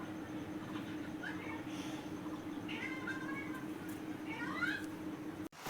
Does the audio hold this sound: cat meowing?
yes